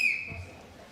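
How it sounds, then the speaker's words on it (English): A referee's whistle signals the start of a Masters strongman lift: one sharp, steady tone that rings out at the start and fades within a second. "On the whistle."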